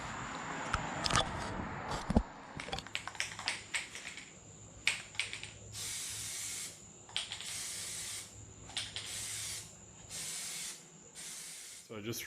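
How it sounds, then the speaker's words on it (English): An aerosol can of Plasti Dip sprays onto a car's chrome door trim in repeated hissing bursts, each a second or so long, separated by short pauses, with some handling noise early on. "Now I'm just gonna start spraying."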